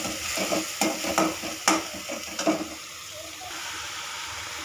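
Chopped onions fry in a pan for arbi gravy, with a soft sizzle under a few sharp stirring clatters early on that fade to a quieter hiss.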